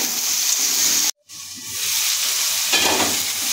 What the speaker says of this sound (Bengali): এর মধ্যে দিয়ে দিচ্ছি আলু, এর মধ্যে দিয়ে দিচ্ছি মূলো। এটাও কিছুক্ষণ আমি কচুর সাথে কষিয়ে নেব।